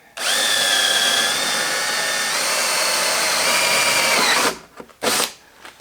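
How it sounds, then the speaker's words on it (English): Power drill boring through sheet metal during a slow-speed carbide grinder build, a loud sustained high whine with a slight pitch shift, then cutting off with a couple of brief bursts. "if you're drilling sheet metal"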